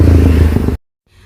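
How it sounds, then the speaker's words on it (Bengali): A motorbike passes fast, a loud, close, low engine roar that cuts off abruptly into silence before faint background noise returns. "কি জোরে বাইকটা আসছে দেখো।"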